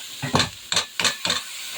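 Small fish frying in a pan beside chili, onion and garlic paste, heard as four short bursts of sizzle and stirring spaced about half a second apart, close and moderately loud.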